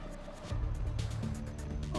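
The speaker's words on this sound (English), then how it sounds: "the siren is really hard, really loud" A police car siren sounds outside while passing by, loud and sustained with steady rising tones across the whole stretch, heard through a room over a low background hum.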